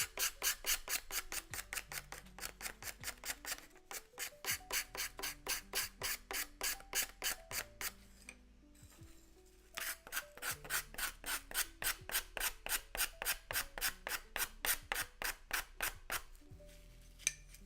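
Rhythmic scraping strokes in a workshop, a long run of evenly spaced rasping pulls repeating about twice a second, with one brief pause midway, close and alone.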